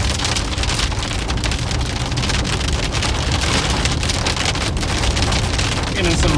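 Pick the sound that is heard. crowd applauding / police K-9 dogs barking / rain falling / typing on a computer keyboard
rain falling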